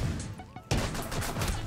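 Desert Eagle pistol shots in a tactical shooter game, sharp loud bangs with a short break between them, followed by a burst of dense impact noise while players talk faintly underneath.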